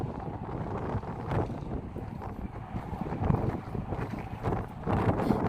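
Gusty wind buffets the microphone in uneven, rumbling bursts that swell and ease over several seconds at an outdoor sculpture park, loud and close with no clear voices.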